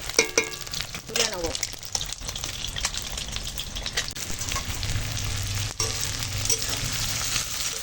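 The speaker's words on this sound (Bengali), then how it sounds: "ওই তেলে পেঁয়াজ দিয়ে দিয়েছি লঙ্কা আর একটাই টমেটো ছিল" Onion, chili and tomato frying steadily in oil, with occasional stirring scrapes and clinks; no talking.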